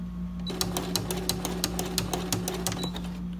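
A domestic sewing machine fitted with a flower presser foot runs a slow zigzag stitch at 5.5 width, starting after a brief hum and ticking out a steady run of evenly spaced mechanical clicks.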